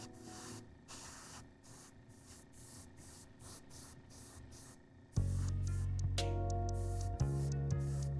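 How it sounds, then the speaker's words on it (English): An airbrush sprays paint through a slightly clogged nozzle, giving a steady close hiss that sputters in short bursts, then a louder continuous rush with tonal whine partway through. "I can kind of feel my airbrush clogging, but not like dry tip"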